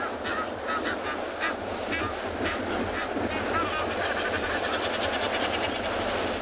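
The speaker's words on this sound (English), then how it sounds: "The Egyptian geese are causing a racket here." Egyptian geese on a shoreline at a penguin beach, a noisy flock honking in repeated, overlapping bursts over a constant wash of surf and wind, fairly close and loud.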